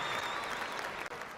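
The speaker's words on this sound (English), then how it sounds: "let's do the clap for her too" Audience applause for Mrs. Gifty Oteng at an event, a steady wash of many hands clapping throughout, fairly loud and close, with a brief dip near the end.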